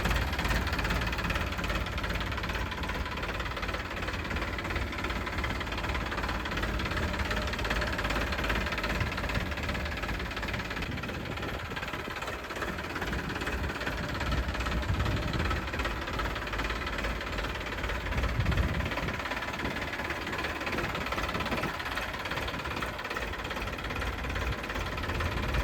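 New Holland 3037 tractor diesel engine idling steadily nearby, a continuous rough knocking rumble with no talk over it.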